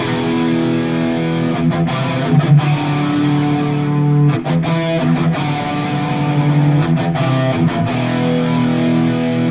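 Heavily distorted electric guitar chords chug in a rhythmic riff, loud and sustained with short choppy breaks.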